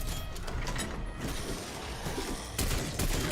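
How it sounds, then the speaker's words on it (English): Artillery strike in Call of Duty Zombies, a dense continuous barrage of rattling blasts and mechanical clatter, loud and close and filling the moment without pause. "Classic artillery strike."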